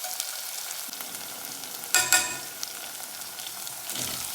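Tomato, garlic and coconut sauté in a pan with a steady close hiss, with a brief clatter of stirring midway and a softer scrape near the end.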